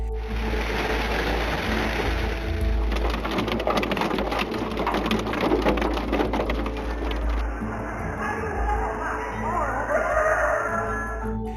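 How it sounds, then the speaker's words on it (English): Hail pounds cars and houses in a strong evening hailstorm in Guizhou, China, a dense steady clatter of ice striking metal and roofs, with a faint rooster crowing in the background. "Houses, vehicles and crops were severely damaged by a strong hailstorm in Yukon County of southwest China's Guizhou province on Saturday evening."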